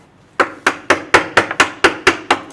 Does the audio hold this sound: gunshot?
no